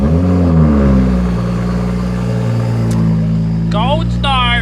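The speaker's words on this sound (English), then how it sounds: "Let's get this cold start." A Toyota Supra engine cold-starts and settles into a loud, close, steady rumbling idle with a slight rev near the start, while a voice talks over it toward the end.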